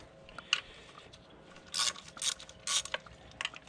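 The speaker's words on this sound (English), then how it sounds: "Got a 10mm here. Just go ahead and unscrew them." Ratchet unscrewing 10mm valve cover bolts on a 2013 Mini Cooper S, several quick clicking ratchet bursts at close range, quiet between strokes.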